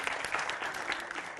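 Audience at a Hindi televised debate applauding, a dense continuous burst of clapping from a crowd heard up close and alone.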